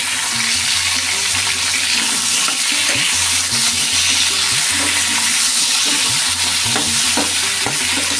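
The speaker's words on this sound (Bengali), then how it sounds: "এখন ভালো করে ভেজে নেবো" Pieces of pointed gourd fry in oil in a pan, making a loud, continuous sizzle broken by repeated scraping stirs, with no voices.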